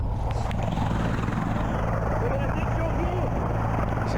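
A rescue helicopter flies over the open sea to pick up a scuba diver who drifted for hours, its continuous rotor and engine drone loud and constant beneath people talking.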